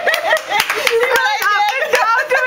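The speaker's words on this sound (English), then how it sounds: "Oh, clap!" A baby girl about ten and a half months old claps her hands at home, giving a string of soft, quick claps while an adult talks warmly over them.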